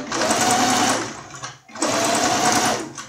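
A sewing machine runs fast, stitching a fine seam on a baby toiletry bag, in two long continuous buzzing bursts separated by a short pause, loud and close.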